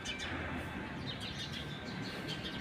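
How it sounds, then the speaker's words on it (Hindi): Many small birds chirp and tweet together from inside the leaves of a tree, a dense, continuous twittering chorus heard from a little distance, fairly faint, with no talking. "आवाज़ देख के आप लगा सकते हैं अंदाज़ा कि कितनी ज़्यादा चिड़िया है इस पेड़ पे"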